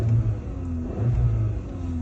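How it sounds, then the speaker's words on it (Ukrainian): A 2017 Volkswagen Golf 7 engine runs at a steady idle with a low, even hum and a faint rise in the middle, close and continuous, with no voices. "Двигун працює рівненько, все, без жодних зауважень"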